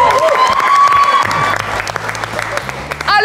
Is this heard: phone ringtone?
no